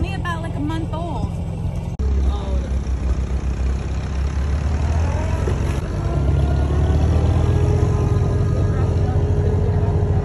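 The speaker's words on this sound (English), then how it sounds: "We're going on our second ever tractor ride." Tractor engine chugging steadily on a pumpkin farm hayride, a low continuous rumble that builds after a brief pause, with people talking over it throughout.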